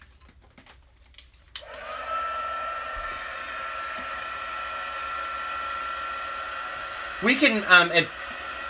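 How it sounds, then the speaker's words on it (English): A crafting heat tool blows a steady, moderate whoosh while drying wet shaker card pieces, starting after a brief click and running continuously, with a voice talking briefly over it near the end. "We're going to hit these with the heat tool here"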